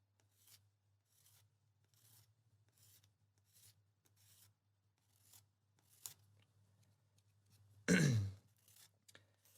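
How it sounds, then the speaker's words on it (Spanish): A nail file rasps across a fingernail, shaped for playing flamenco guitar, in short, soft, evenly spaced strokes, close and quiet, ending with one louder, longer scrape. "Vamos a limar en el mismo sentido."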